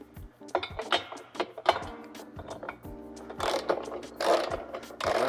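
A ratchet tightens the mounting bolts of a trailer hitch on a Tesla Model 3, giving close, rhythmic bursts of clicking pawl strokes with short pauses between them.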